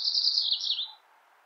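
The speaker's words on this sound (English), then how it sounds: "The black-throated gray warbler is fairly common but seldom seen" A black-throated gray warbler gives a single high, buzzy call that slurs slightly downward and fades after about a second, clear and fairly close against a quiet background.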